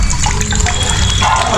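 Water is poured out for a lamb to drink, a close, loud continuous splashing and trickling with bubbly flow.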